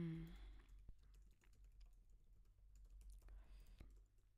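Quiet keyboard typing, soft scattered key taps close by at a low level, with a brief voice at the start.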